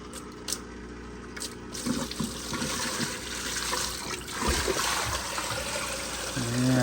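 Dirty water, a year's buildup from a single fish, is poured out of an aquarium canister filter, splashing and trickling fairly close, with a voice speaking briefly near the start.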